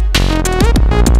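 A loud, buzzy synth lead in Ableton with a changed portamento time, heard alone in a brief snippet of a few notes whose pitch slides smoothly from one to the next.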